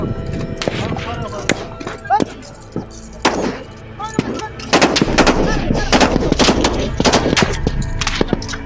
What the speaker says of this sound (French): Les échanges de tirs sont presque terminés